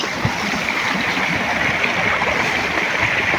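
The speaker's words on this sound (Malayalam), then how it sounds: "ഈ വെള്ളത്തിൻ്റെ ഒഴുക്കിൻ്റെ സൗണ്ട് ഉണ്ടല്ലോ അത് കേൾക്കുമ്പോൾ ഒരു ഹരം തന്നെ കേട്ടോ" Fast-flowing stream water rushing over rocks near a monsoon waterfall, a steady, loud, close broadband roar that continues unbroken with no talking.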